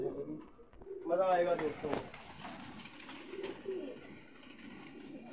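Pigeons, described by the keeper as top-class birds, coo softly in a breeder setup. The low coos and faint bird sounds come from close by, and someone talks over part of it.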